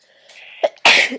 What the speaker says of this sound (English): I'm just sneezing a lot.